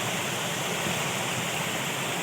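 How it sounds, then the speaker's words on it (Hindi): Water flows near a building with a dense, constant rushing roar like a small waterfall, loud and even from start to end with no voices. "पानी का फ्लो है।"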